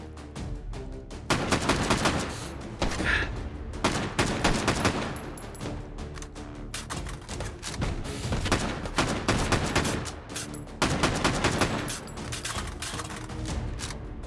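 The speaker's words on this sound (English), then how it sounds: "I'm not even aiming anymore, I'm just shooting" Repeated bursts of gunfire from guns in the VR shooter Hot Dogs, Horseshoes & Hand Grenades, loud and close, with rapid volleys separated by brief pauses across the whole stretch.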